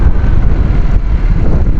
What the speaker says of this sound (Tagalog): Mainit na malamig dahil yung hangin, malakas ang hangin